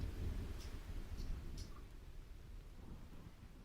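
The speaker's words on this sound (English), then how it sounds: "mynoise.net has like a thunder generator. That's what I use." A generated thunderstorm soundscape plays softly, with low rumbling thunder and a faint rain wash and a few light crackles.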